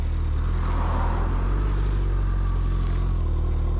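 Suzuki Hayabusa sport motorcycle, 2021 model, pulling away with a steady, loud low engine drone and rumble that holds throughout, close by and unbroken, with no voices over it.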